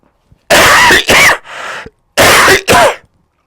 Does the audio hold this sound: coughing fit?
yes